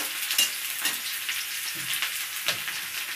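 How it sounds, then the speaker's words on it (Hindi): Chopped onion and garlic frying in a pan while being stirred, a steady bright sizzle with occasional scraping swells from mixing, close and continuous with no talking. "अब इसमें लहसुन ऐड कर दूंगी, इसको भी अच्छे से मिक्स कर लूंगी"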